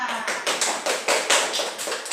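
A class applauds together, a run of quick, fairly loud claps with a steady rhythm that lasts about two seconds, with no voices over it.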